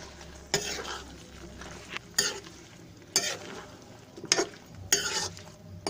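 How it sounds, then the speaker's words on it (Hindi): Potatoes stirred into green beans frying in a pan, with a quiet sizzle broken by five sharp, regular scrapes of a spoon against the pan. "और जो हमारा आलू है और अच्छे से इसको हम इसमें मिक्स कर लेंगे।"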